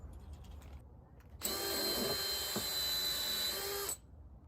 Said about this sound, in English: Stick in a pre-drill that's approximately 1/3 the diameter of the lag bolt.